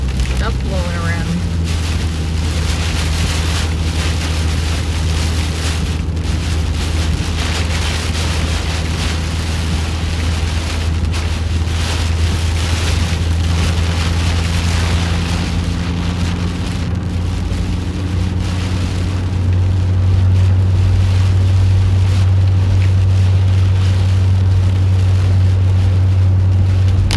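Steady, heavy wind from a severe storm roars and buffets the microphone throughout, a constant low rumble that swells louder near the end.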